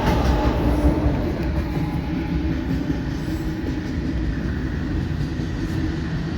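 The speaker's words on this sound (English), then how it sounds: "Here comes our mid-train DPU" Long coal freight train on Union Pacific track rolling past with a mid-train DPU locomotive, a steady loud rumble of wheels and cars clattering continuously.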